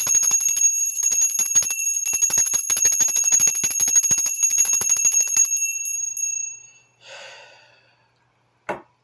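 A handheld bell rung rapidly and continuously for energy clearing, with bright sustained high tones that fade out, followed by a breathy exhale and a brief final sound.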